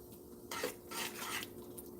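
A utensil stirring soup with noodles in a pot, two or three short scraping swishes against the metal, close and fairly quiet.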